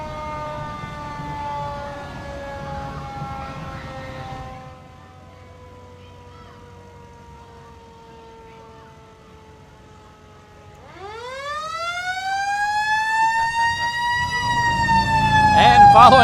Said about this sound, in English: It's got a little siren on there